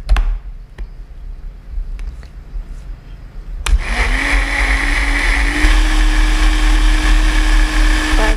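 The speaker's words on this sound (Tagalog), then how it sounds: "Lagay natin sa blender" A blender starts up after a few quiet seconds of light clatter, then whirs steadily and loudly as it grinds moringa leaves with milk, with a high motor whine throughout.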